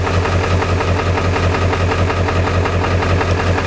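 A Ford 7.3L diesel engine idles after a cold start with a loud, close, rhythmic knocking clatter and a deep steady throb, with no voices over it.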